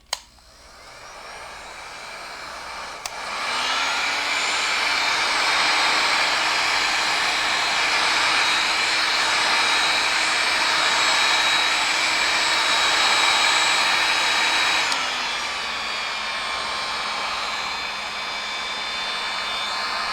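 A heat gun warms a part of a 2002 Honda Odyssey automatic transmission. It clicks on and blows with a steady, loud whirring hiss for about twelve seconds, then drops to a lower hum, with no speech.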